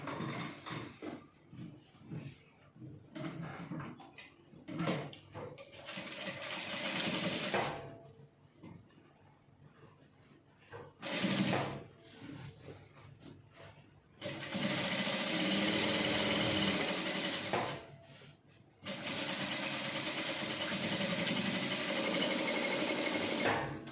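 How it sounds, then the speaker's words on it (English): A sewing machine stitches a single welt pocket in loud, close bursts of rapid mechanical whirring, separated by short pauses and quieter handling noises, with the longest runs coming late. "I'm going to start sewing from this upper part straight down and do the same thing to this other"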